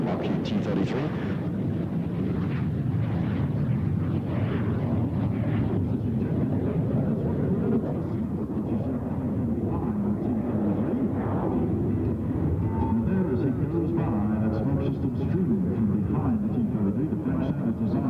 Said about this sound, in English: running up the engine now, that Rolls-Royce Mean 10 engine